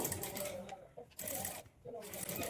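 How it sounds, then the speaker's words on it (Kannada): A sewing machine stitching piping onto a blouse neck runs in short, quiet bursts of rapid whirring, each broken by a brief pause, with a voice present nearby. "ಕೊನೆಯವರೆಗೂ ಒಂದೇ ಲೆವೆಲ್ಗೆ ಫೋಲ್ಡ್ ಮಾಡಿಕೊಂಡು ಈ ಪೈಪಿಂಗನ್ನು ನಾವು ಸ್ಟಿಚ್ ಮಾಡಿಕೊಳ್ಬೇಕು"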